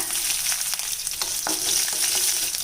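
Oil sizzles and crackles steadily up close, with tiny popping bursts scattered throughout as mustard seeds and lentils fry in a pan.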